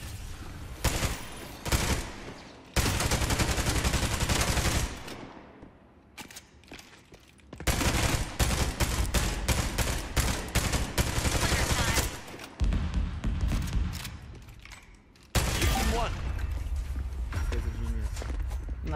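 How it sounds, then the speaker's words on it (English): Rapid gunfire bursts shooting through a wall in the video game Spectre Divide, loud repeated volleys separated by brief lulls, with players' voices talking at times. "I shot through the wall."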